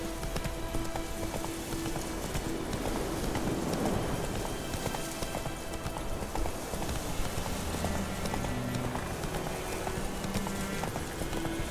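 Rapid hoofbeats of a galloping horse in the video game Witcher 3, a steady quick clip-clop rhythm running throughout, moderately quiet under a light ambient bed.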